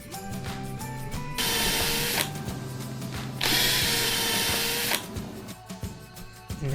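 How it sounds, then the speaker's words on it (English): Pre-drilling screw holes for a truss rod cover on a DIY jazz bass neck, with two sustained bursts of loud, close drilling separated by quieter handling and clicking. "Pre-drill them."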